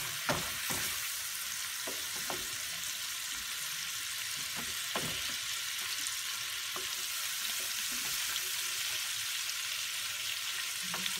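Pistachio pesto melts and sizzles in a pan for pappardelle with sausage, a constant soft frying hiss with scattered utensil taps and knocks.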